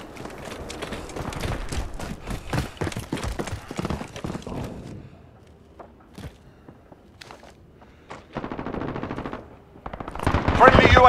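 Rapid machine gun fire rattles in dense, loud bursts during Call of Duty: Modern Warfare beta gameplay, with scattered footsteps and single shots in a quieter stretch before a final heavy burst.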